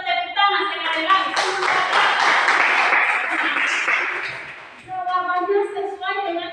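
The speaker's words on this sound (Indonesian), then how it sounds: "untuk Kelendon kita tepuk tangan sekali lagi." A class claps together in steady applause for a few seconds, with voices speaking before and after the clapping.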